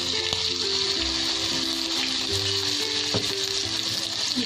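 Curry leaves and ginger-garlic-green chilli paste sizzle and crackle steadily in hot oil, with a stirring scrape now and then and no talk.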